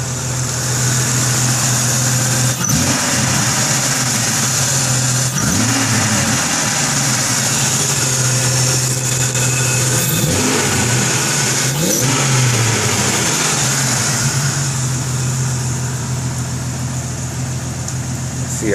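A Jeep with a 4.0 engine that has just had a spark plug change drives along, its engine droning loudly and steadily with several rising revs as it accelerates through the gears, heard from close inside the vehicle.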